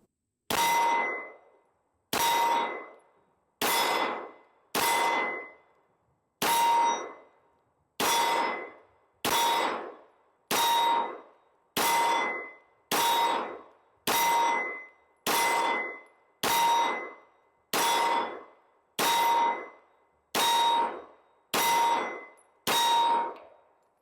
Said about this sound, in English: get some rounds put down here on the target